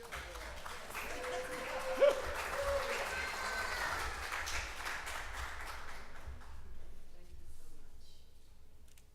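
An audience applauds at a small business award ceremony, moderate clapping from a seated crowd that carries on for several seconds and fades out near the end, with a voice speaking faintly beneath it.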